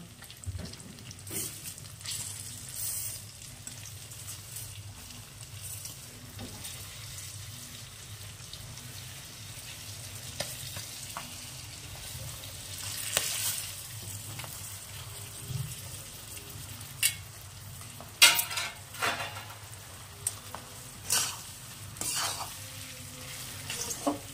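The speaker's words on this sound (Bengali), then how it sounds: "এবারে চালটাকে একটু ভাজা ভাজা করবো।" Washed and dried rice being fried and stirred in a pan for vegetarian bhuna khichuri, with a soft, continuous sizzle and occasional scraping strokes of a spoon, fairly quiet, no talking.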